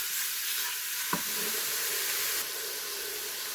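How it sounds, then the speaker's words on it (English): Sausage browning in an Instant Pot as garlic and herbs are stirred in, a steady bright sizzle with a brief stirring scrape partway through, close and alone, dropping slightly in level near the end. "While the sausage is browning up, I'll add in my garlic and other herbs."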